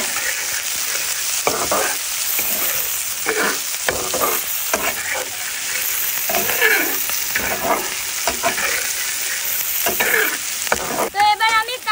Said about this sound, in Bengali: এবার তেল গরম হয়ে গেলে আমি এর মধ্যে দিয়ে দেব কিছু পেঁয়াজ, কিছু মরিচ কুচি।